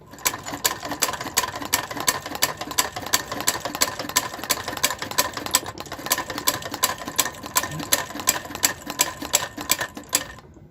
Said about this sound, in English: But I kind of like using my linker.